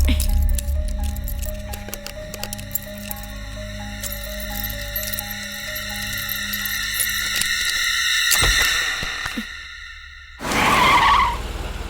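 Car tyres skid and squeal as a vehicle brakes hard to a stop, a loud screeching sweep ending in a short burst of noise, with no talk over it.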